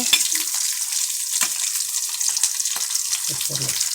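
Garlic drops into a hot pan and fries, a bright steady sizzle with a few stirring clatters and scrapes of a spoon, fairly close.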